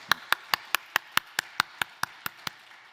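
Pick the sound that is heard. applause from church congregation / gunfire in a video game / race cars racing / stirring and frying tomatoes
applause from church congregation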